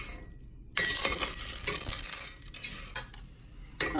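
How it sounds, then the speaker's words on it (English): Pasta shells browning in a pot for Mexican shell soup are stirred with a utensil, giving a steady run of scraping clinks and light metallic taps against the pot over a faint sizzle, close and fairly loud. "Make sure you keep on stirring it because you don't want your shells to burn either."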